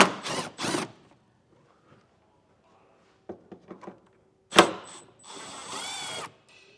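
Power tool spinning out three 10mm screws from a plastic interior panel during a Curt Class III trailer hitch install on a 2023 Volkswagen, heard as a few short whirring bursts and clicks with pauses, ending in a longer run.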